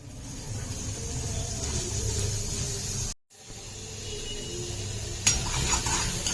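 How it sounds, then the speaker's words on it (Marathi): Steady sizzling of finely chopped onion frying in a pan, with a brief dropout midway and a scrape of utensils near the end. "कांदा चांगला भाजून घ्यायचा आहे"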